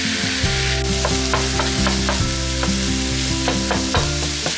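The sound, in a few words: lean ground turkey and garlic cooking and stirred in pan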